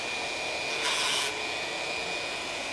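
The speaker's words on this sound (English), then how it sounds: "The Dremel will do the work for you." A Dremel rotary tool files a pet's nails during home grooming, a steady high whine with a continuous gritty rasp, briefly louder for a moment as it presses against the nail, close and alone.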